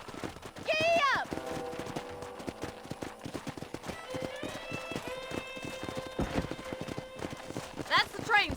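Horse hooves clip-clop at a quick, steady gallop in the Red Dead Redemption video game, with a whinny near the start and again at the end, a musical tone in between, and voices speaking over the hoofbeats.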